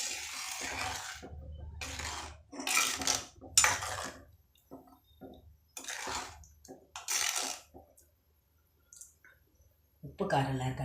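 Tamarind curry stirred in a pot, heard as a series of broadband scraping, clattering strokes in short bursts with brief pauses between them, fairly close and moderately loud.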